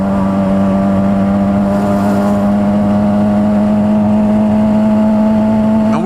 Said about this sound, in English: And then we got the homie Eric on the 2019 Kawasaki 636